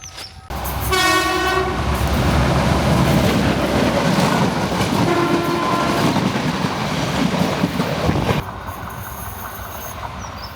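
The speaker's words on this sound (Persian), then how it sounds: "بچه‌ها قطار داره میاد." A train arrives at a track, with a loud horn blast near the start, then a sustained rumble and clickety-clack of rail cars rolling past close by, which cuts off abruptly near the end.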